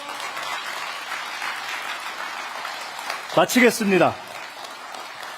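An audience applauds at a speech with steady, moderate clapping, then someone briefly speaks over it before the applause fades back to a soft background.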